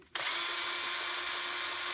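A power drill running steadily with a bright whine while its chuck turns anticlockwise to open the jaws, on a bird box build, starting abruptly after a brief quiet moment and holding at an even level.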